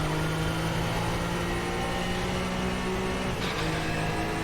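A Group C race car in the RaceRoom racing game drones at steady high revs, then drops sharply through a quick downshift near the end, with a short burst of blipped engine noise.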